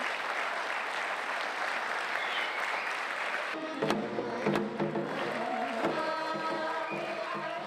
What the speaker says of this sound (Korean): 관객석에서 기립박수가 터져 나옵니다